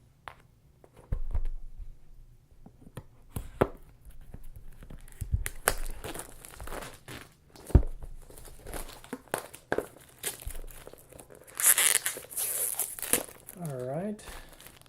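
Plastic packaging crinkles and tears close by as a Hero Realms card game box is opened, with irregular rustles, crackles and thumps, louder bursts near the end, and a voice briefly heard.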